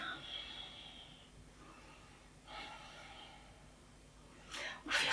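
Deep breathing during a yoga warrior pose in a leg-strengthening session for skiers and snowboarders: a soft breath early on, another around the middle, then sharper, louder snort-like breaths at the end, close and alone.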